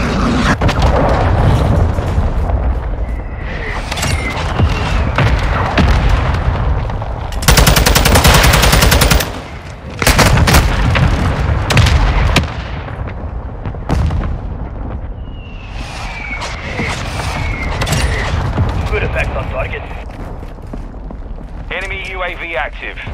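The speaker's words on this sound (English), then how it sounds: "Mortar strike inbound now." Mortar strike explosions in Call of Duty Modern Warfare II at Mercado Las Almas: heavy booms and rumbling blasts mixed with rapid gunfire, while voices talk over the battle.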